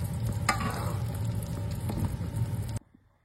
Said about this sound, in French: Donc là, j'arrose pendant la cuisson.